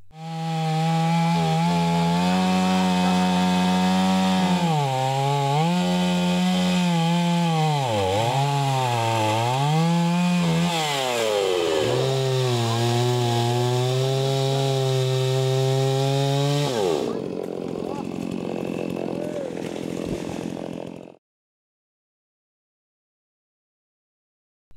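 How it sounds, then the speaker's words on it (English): A chainsaw cuts through wood, its engine whining and bogging in repeated pitch swoops, loud and close, then cutting off abruptly near the end. "These chainsaws are available with the distributors of the companies."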